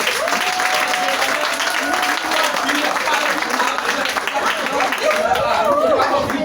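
A church congregation at a council gathering in Soubré applauds and acclaims Jesus Christ, sustained loud clapping mixed with cheering voices and chatter, close and continuous throughout.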